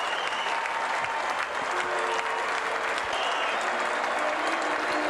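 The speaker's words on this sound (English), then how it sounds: "receiving the well-deserved plaudits and acclamation of this Wigan crowd" A Wigan rugby league crowd at a playoff match against Castleford applauds, sustained loud clapping from a large stadium audience with a faint voice over it, steady throughout.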